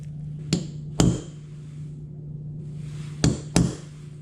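Four sharp metallic hammer strikes on a punch marking a power steering gearbox part from a 1997 Jeep Wrangler TJ, in two pairs about half a second apart, ringing briefly over a steady low hum.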